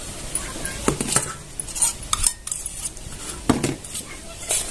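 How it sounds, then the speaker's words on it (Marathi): Okra being mixed with besan gram flour in a bowl for a Marathi besan bhindi, with clinking spoon-on-bowl knocks and scrapes in an irregular rhythm, up close. "आपल्याला इथं बेसन पीठ घालून घ्यायचं याच्यात आणि छान मिक्स करून घेणार आहोत आपण"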